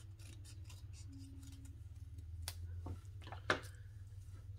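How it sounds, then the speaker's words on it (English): Scissors cut a sheet of card paper in half for a pop-out vase greeting card: a few crisp snips stand out near the end over a steady low background hum, with no talking. "You just cut it in half"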